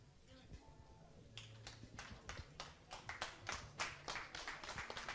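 A small group applauds at a 10 m air rifle standing mixed shooting medal ceremony, scattered individual claps building into denser, faint clapping, with talk in the background.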